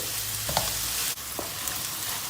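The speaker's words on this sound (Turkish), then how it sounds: "Orta ateşte soğanlarımızı kavurma işlemine başladık." Steady sizzling of onions sautéing over medium heat in a pan, a constant crackling hiss with a few soft stirring clinks, no voices.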